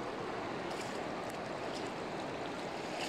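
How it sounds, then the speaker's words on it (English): A massive river flows past a bend in Pello, Finland, giving a steady, broad rushing wash of water with no talking. "this massive river that is coming from the north of Sweden and flowing all the way to the"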